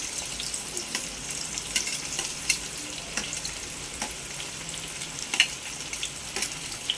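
Finely chopped onion frying in oil for a chicken gravy, giving a continuous close sizzle with light stirring scrapes and small pops, no voices.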